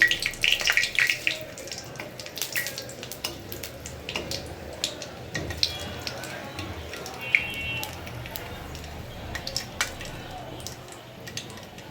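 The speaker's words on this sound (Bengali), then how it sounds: "তেলটা গরম হয়েছে, এবার দিয়ে দিব শুকনো মরিচ, তেজপাতা।" Dried red chilies and bay leaves hitting hot oil in a wok, giving a steady close sizzle with scattered crackling pops and spits that ease slightly as the frying settles.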